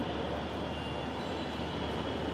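Metro rail train on the line from Karwan Bazar to Motijheel, a steady, loud, even rumble of wheels and motors filling the whole stretch with no talk over it.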